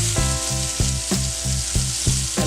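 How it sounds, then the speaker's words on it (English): Zucchini sautés over extremely high heat with a loud, continuous sizzle and crackle, punctuated by regular rhythmic clanks as the pan is tossed or stirred, with no voices. "now I have my zucchini, and I'm going to do the same thing, same seasonings, sauteing on extremely high heat"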